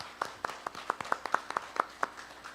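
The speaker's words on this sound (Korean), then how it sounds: "우리 잠시 축하하는 박수로 해주셨으면 감사드리겠습니다" Scattered hand claps from a church congregation during a Sunday Baptist worship service, a dozen or so sharp, fairly even claps over a couple of seconds at moderate level, with no voices.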